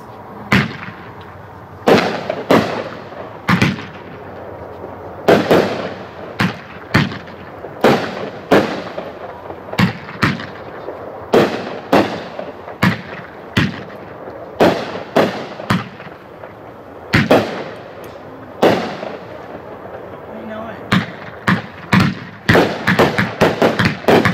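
Pyro for a Purpose fireworks cake, 19 shots, firing a rapid series of sharp booming bursts with brief crackling tails, sometimes in quick clusters, loud and close, ending in a dense volley.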